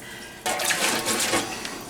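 Water poured into the bottom of a roaster pan holding onion soup mix, about half an inch deep; a bright, steady splashing pour starts abruptly and runs on without pause, close and fairly loud.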